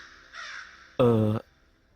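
A crow caws in a Tamil-dubbed crime thriller movie scene: a softer call first, then one loud, harsh caw up close, with no talking.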